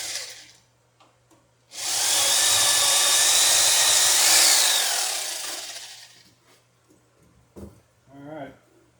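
A power drill bores a hole into a small boat's rig, whirring loudly and steadily for about four seconds before spinning down, followed by faint handling knocks.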